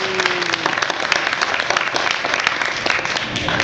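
Audience applause for a group on stage at a Las Vegas podcast event, a dense, steady wash of many hands clapping at close range throughout, with faint voices mixed in.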